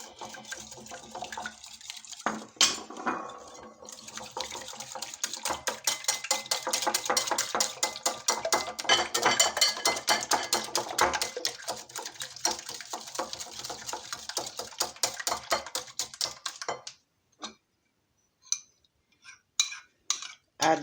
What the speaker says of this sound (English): I'm going to be whisking the egg.